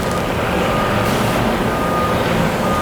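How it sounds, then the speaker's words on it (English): A garbage truck's reversing alarm beeps steadily in a movie scene, a thin repeating tone sitting inside loud, dense engine and street noise. "And this garbage truck."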